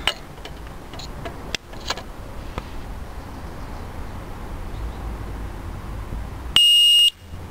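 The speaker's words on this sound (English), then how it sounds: "And this is my second Xena disc lock alarm." A Xena disc lock alarm fitted on a motorcycle wheel lets out a single short, loud, piercing electronic beep near the end. Before it, only faint ticks and clicks rise over a quiet outdoor background.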